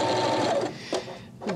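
A Husqvarna Viking Emerald 116 sewing machine runs slowly through a stitch that moves two forward and one back, giving a near, whirring mechanical hum with brief clicks between needle passes.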